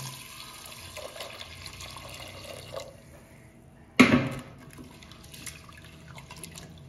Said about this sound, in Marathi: हे स्वच्छ धुया 2 पाण्याने